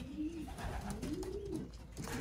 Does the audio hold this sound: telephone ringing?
no